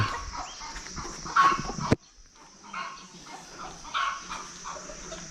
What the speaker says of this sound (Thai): โอ้อยู่วัดก็มีไก่